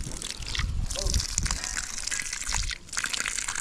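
Water gushes and splashes from an outdoor tap during washing on a farm on cattle vaccination day, a steady close rush with brief dips, while people talk over it.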